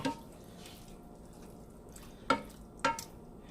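Enchilada filling with seasoning being stirred in a pan: a quiet, steady background with a faint sizzle, broken by two short, sharp knocks of the spoon against the pan near the end. No one talks.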